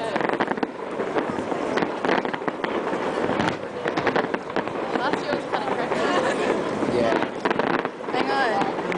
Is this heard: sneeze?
no